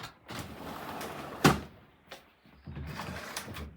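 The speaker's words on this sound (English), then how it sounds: "And now we have a slider door." A sliding screen door in a house is pushed along its track and shut, with quiet rolling scrapes and a single sharp knock midway, heard close with no talking.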